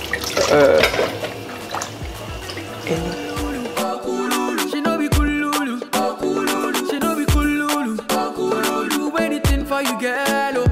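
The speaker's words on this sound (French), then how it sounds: "elle lave les légumes avec habileté et les découpe l'un après l'autre" Vegetables rinsed under a running kitchen tap, with a steady water stream and splashing, while music plays loudly over it.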